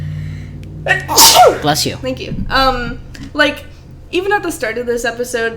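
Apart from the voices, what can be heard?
person sneezing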